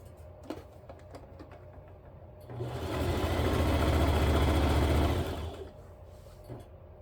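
A sewing machine stitches elastic casing on a quilt in one steady, even burst of about three seconds, rising in and fading out, with quiet room sound before and after.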